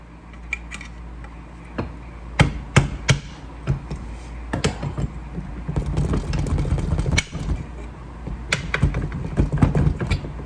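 Old flathead chisel being tapped with a hammer while working on a Homelite XL-113 chainsaw, giving a series of sharp, irregular metallic taps close by over a low background hum.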